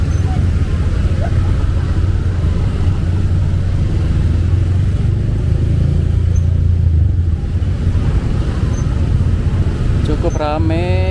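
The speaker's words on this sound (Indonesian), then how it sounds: "Cukup ramai dan cukup padat kendaraan." Busy, dense vehicle traffic in Bandung's city centre on a holiday makes a loud, continuous rumble of engines close by, and a brief rising whine comes in near the end.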